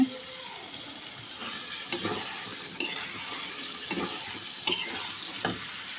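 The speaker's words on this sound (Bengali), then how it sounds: "তো এখন ফ্রেশ ধোয়া মাংসগুলো হচ্ছে দিয়ে দিলাম। এখন এগুলোকে একটু কষিয়ে নেব।" Washed chicken pieces frying in a spice mix in a pan for a simple country-chicken curry, giving a soft continuous sizzle with a few stirring knocks, moderately quiet and close, no speech.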